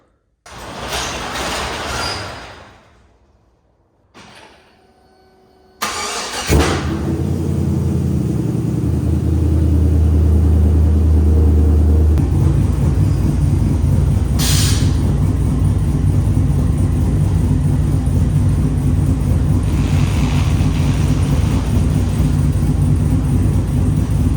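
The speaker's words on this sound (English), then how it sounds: "So let me get this truck aired up and we'll take a look at how it looks on this truck." A truck with air ride suspension sits running while the suspension airs up, a loud, steady engine drone and hiss that starts after a few short clunks and stays constant, with a brief squeal midway.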